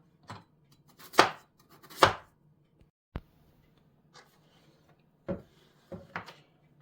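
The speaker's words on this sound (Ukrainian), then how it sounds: "Ось такими довгенькими тоненькими кусочками нарізаємо 800 грамів гарбуза." A knife slicing pumpkin into thin strips on a board, a handful of separate, crisp cuts and thuds at an irregular pace, close and clear with quiet gaps between them.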